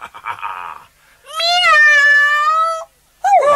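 A cartoon dog gives a drawn-out, wavering meow in an imitated cat voice, loud and close, with brief murmuring before it and another short cry at the end.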